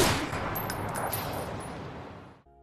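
Gunfire in an action film scene sounds as a dense, rattling burst of rapid shots at moderate loudness, continuing for a couple of seconds before cutting off abruptly.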